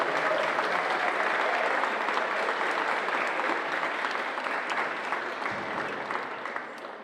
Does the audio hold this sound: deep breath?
no